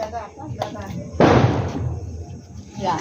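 A Diwali firecracker goes off with one loud, sharp bang, and its crackling tail fades over about half a second. Voices chatter before and after the blast.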